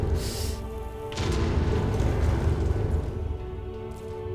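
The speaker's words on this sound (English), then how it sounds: "The explosions in this game seem to be a little bit harder to visualize the area of effect over the initial game" Explosions in Hollow Knight: Silksong, a deep boom bursting at the start and a second heavy blast about a second later, rolling into a sustained rumbling roar that fades slowly.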